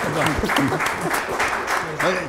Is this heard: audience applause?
yes